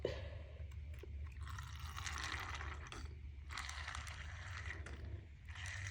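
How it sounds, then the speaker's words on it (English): Continuous watery gurgling and sucking as water is drawn out of a pot, with broadband bursts of liquid rushing through a hose, fairly faint and close, no talk. "That's just the water that I'm sucking out of the pot."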